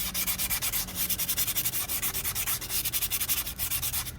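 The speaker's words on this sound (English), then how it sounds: "Now it would be a good idea if you have some sandpaper, crisscross manner, do that." Sandpaper is rubbed back and forth in a crisscross motion across a rear disc brake pad from a Royal Enfield Himalayan motorcycle. Rapid, rhythmic scratchy strokes sound close and steady, with no speech.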